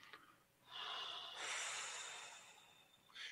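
A person takes a long, deep breath, a drawn-out airy inhale lasting a couple of seconds, close and soft, with another breath starting at the end.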